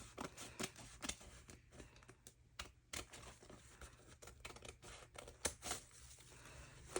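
Scissors snip paper for a junk journal in a quick, uneven run of crisp cuts and rustles, close and fairly quiet, with no talking.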